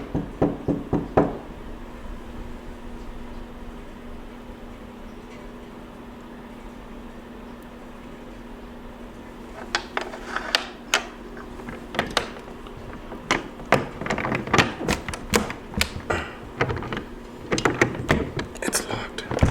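Someone tries to open a locked door between rooms in an old haunted chapel, producing a burst of knocks, rattles and clunks of handle and latch after a quiet stretch, close and fairly loud, with a low steady hum underneath.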